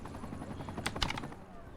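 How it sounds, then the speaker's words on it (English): A police helicopter comes in to land in the city-building game Cities: Skylines, its rotor chop pulsing fast under a steady engine drone, faint, with a couple of sharper bursts partway through. "that's the police helicopter landing"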